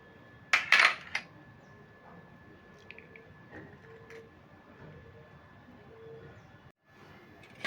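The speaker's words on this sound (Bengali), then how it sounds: "এই ডিমগুলোকে আমি ফাটিয়ে নেব একটা রুটির মধ্যে ফাটিয়ে দিয়ে দিচ্ছি" Eggs cracked into a bowl for a Mughlai paratha: a quick pair of sharp clicks and a brief crack near the start, followed by quiet kitchen room tone with faint small clinks.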